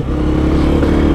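A 2014 Honda CRF 230 pit bike engine revs hard and close, a loud continuous buzzing motor note with rattly clatter, no voices over it.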